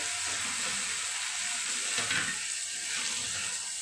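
Browned onions and tomatoes frying in a pan for bhindi, a dense, hissing sizzle that stays fairly quiet and even, with a faint stir or two and no talking.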